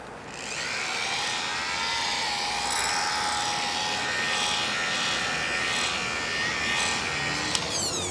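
Power polisher on speed setting 1 spreading restoration compound over a car headlight, a steady close whine that holds evenly throughout with no voices.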